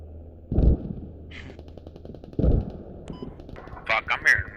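Mortar fire in a multiplayer shooter game, a few heavy distant booms spaced apart, followed by quieter crackling bursts and electronic blips, with voices talking over it.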